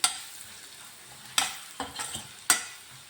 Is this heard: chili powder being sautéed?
yes